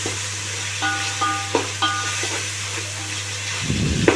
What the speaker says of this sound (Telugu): అవన్నీ వేసుకొని చక్కగా కలిపేసుకోవాలి